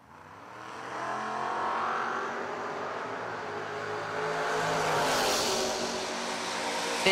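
Drag race at a footbrake challenge event, a Mustang and an S10 pickup launching side by side: loud sustained engine roar building and revving hard, swelling as the cars pass, with no talk over it.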